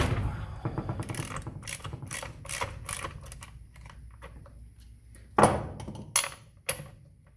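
Spark plug being removed from an ECHO SRM-210 string trimmer: a run of quick metallic ratcheting clicks from the wrench, close up, followed by a few sharper clacks and a light rattle near the end.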